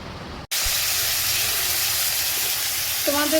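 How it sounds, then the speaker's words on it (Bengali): Fish roe fritters fry in hot oil, a loud, steady sizzling hiss that starts abruptly after a brief silence and continues, with a faint voice near the end. "এই দেখো মাছের ডিমের বড়া সব ভাজা হয়ে গেছে"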